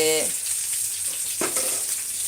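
Fish frying in a pan gives a steady, close hissing sizzle throughout, with a brief voice at the very start.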